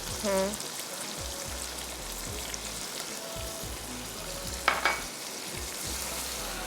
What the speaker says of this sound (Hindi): 2 टेबलस्पून इसमें हम जिंजर गार्लिक पेस्ट डालेंगे